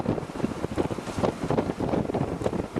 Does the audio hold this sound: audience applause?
no